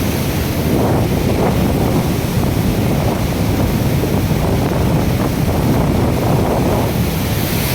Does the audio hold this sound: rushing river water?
yes